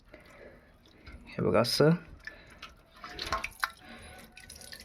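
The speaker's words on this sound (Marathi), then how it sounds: "हे पाणी म्हणजे ताक सरळ गाळायचं आणि जो उरलेला आहे तो लोणी आपण घ्यायचा" Buttermilk drains off hand-churned butter into a pot in the traditional village way, giving wet drips and squishy liquid splashes. A person speaks briefly over the quiet sounds of straining.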